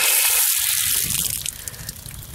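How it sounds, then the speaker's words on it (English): Tap water running outdoors during a freezing ice and sleet storm in Pensacola, Florida, kept flowing so the pipes won't freeze; a steady, close gush of water, splashing at first and then settling into a softer stream. "You gotta run your water."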